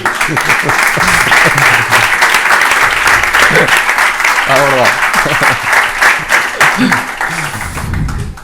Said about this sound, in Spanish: Si queréis aplaudir sin problema